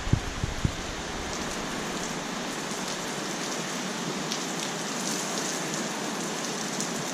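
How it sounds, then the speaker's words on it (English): Steady rain falls outdoors, a dense, even hiss throughout with a few close drips at the start. "Yeah, here comes the rain."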